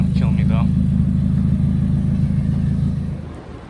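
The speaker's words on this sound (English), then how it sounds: "That exhaust leak is gonna kill me though." A car engine with an exhaust leak idles with a steady low rumble, loud and close, fading slightly at the end; a brief voice is heard near the start.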